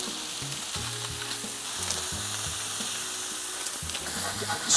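Sausage patties sizzle steadily on a hot griddle in a loud, constant fry hiss, with faint low tones running underneath.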